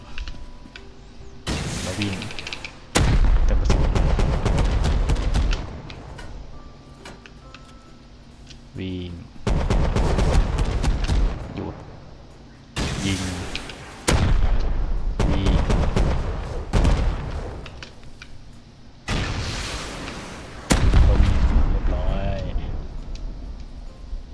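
Repeated bursts of gunfire from bots in the survival game Rust, loud volleys separated by quieter gaps over many seconds, with voices talking in between.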